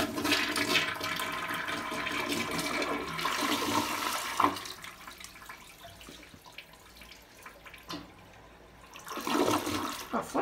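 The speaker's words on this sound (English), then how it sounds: "You have an American Standard toilet, which I haven't flushed yet, so we're going to give it a flush." An American Standard toilet in a Residence Inn hotel bathroom in North Portland, Oregon flushes loudly up close, a rushing swirl that eases off, then surges again as it flushes a second time.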